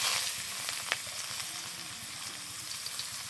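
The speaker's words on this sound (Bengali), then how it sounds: "এই মাছ ভাজা তেলের মধ্যেই দিয়ে দেব পেঁয়াজ কুচি" Chopped onion sizzles in hot oil left over from frying fish, a steady close hiss with a few small pops and no talking.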